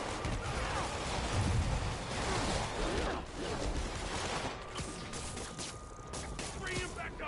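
Police gunfire in the Marvel's Spider-Man video game, Silver Lining DLC, a dense rattling barrage of shots mixed with crashing impacts and game effects, continuous and moderately loud.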